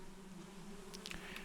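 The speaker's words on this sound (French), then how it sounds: "Alors là, nous avons trouvé les abeilles." Bees in the game Valheim buzz steadily in a low continuous drone, close and constant throughout, with a few brief brighter clicks near the end.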